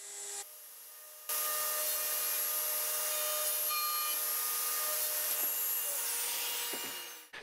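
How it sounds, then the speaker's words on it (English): A router spinning a 4-inch long, half-inch diameter bit with a guide bushing and jig cuts a mortise in wood, a loud steady high whine that starts after a quieter motor hum and runs unbroken before winding down. "I'm using a big ol' honkin' 4-inch long, half-inch diameter router bit, along with a guide bushing and this jig"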